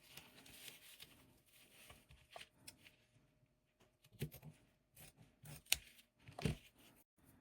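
Scissors cut through crochet yarn on a tumbler wrap with a few quiet, close snips among soft handling rustles, ending in a couple of sharper clips.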